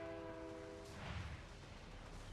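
A train approaching in a video game sounds a steady tonal horn that fades after a moment, then gives way to a low, broad rumble that swells slightly as it nears, all fairly faint.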